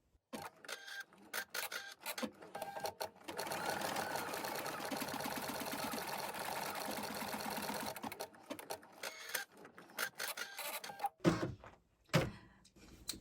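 Embroidery machine stitching a box of fixing stitches on slubby silk dupion at midway speed: a quiet, rapid mechanical whirring and ticking, with a steady sustained run in the middle framed by shorter bursts and clicks.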